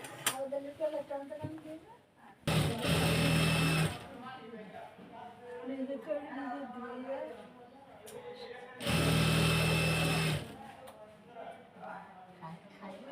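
Two short bursts of a sewing machine stitching a georgette kameez side seam, each lasting a second or two and loud up close, separated by and surrounded by someone talking.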